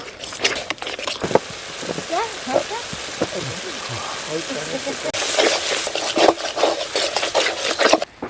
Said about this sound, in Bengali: এবার সব মশলাগুলো ভালো করে কষিয়ে নেব।